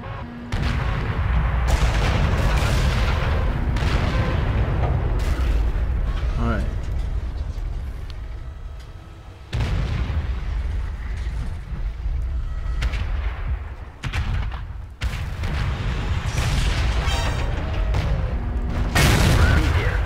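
Tank cannon fire in World of Tanks: heavy, booming shots with deep rumbling tails over continuous engine and battle noise, loud and close, with players talking throughout.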